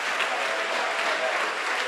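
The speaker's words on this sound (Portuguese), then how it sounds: "E eu quero que você dê para esta palavra uma grande salva de palmas" Congregation at a church service applauding, a dense, steady wash of clapping hands that holds evenly throughout without any voices on top.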